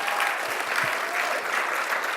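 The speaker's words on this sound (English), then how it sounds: "Give Mike one more round of applause if you would, please." An audience at a happiness-themed hall of fame talk keeps up steady, sustained applause, a thick wash of many hands clapping with faint crowd murmur beneath.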